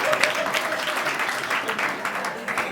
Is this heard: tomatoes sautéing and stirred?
no